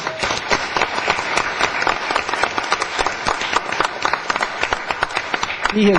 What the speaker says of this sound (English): I'd like everybody to give him a round of applause